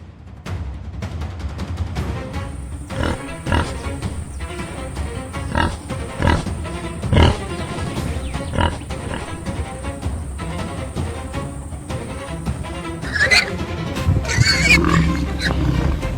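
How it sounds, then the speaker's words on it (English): Warthogs squeal and grunt in panic as they scatter from a lion through underbrush, a dense, continuous mix of close animal cries and rustling crashes with a steady high whine running through most of the scene. "Panic spreads through the group of warthogs, which scatter in every direction, squealing and crashing through the underbrush."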